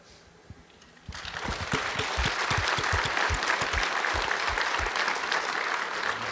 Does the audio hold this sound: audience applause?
yes